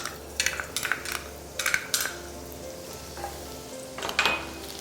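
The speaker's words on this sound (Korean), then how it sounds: "여기 이제 올리브 오일하고 고추기름을 살짝만 넣어줄 거예요. 거기에 아까 다진 마늘하고" Minced garlic sizzles in olive oil and chili oil in a pan while making risotto, a steady close frying hiss broken by several sharp clinks and scrapes of utensils against the pan.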